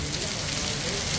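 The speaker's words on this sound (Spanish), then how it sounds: "este es el primer video de la lluvia acá en el cantón Barahona" Steady rain of the season's first big storm falling in the Barahona canton, La Paz Oeste, a dense, even hiss of drops on surfaces holding constant and fairly loud throughout, with no clear voices.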